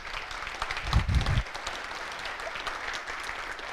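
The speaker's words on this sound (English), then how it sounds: "can we very quickly give a round of applause to Heather and Eli and the One for All crew" A PHP conference keynote audience breaks into applause, a moderate, roomy wash of clapping that swells briefly and then continues at a steady, lower level with a little crowd murmur.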